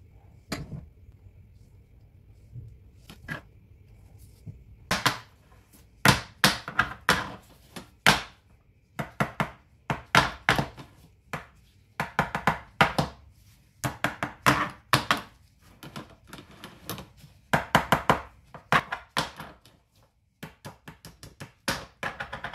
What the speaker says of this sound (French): Je tapote les moules pour bien répartir la pâte.